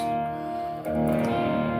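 A sustained electric guitar chord ringing out with effects, a brief dip then a fresh strum that rings on, fairly loud and alone.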